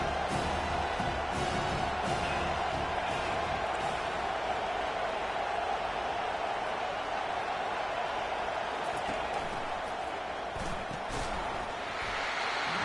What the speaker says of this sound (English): Here comes his home crowd as the defense tries to get off the field on 3rd down.